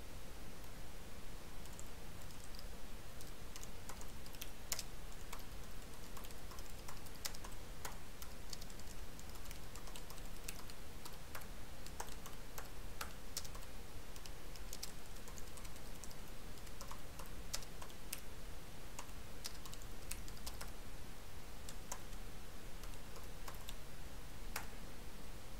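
Steady tapping of keys on a computer keyboard as a command is typed at a domain admin console, close and fairly quiet, with irregular clicks over a soft background hiss.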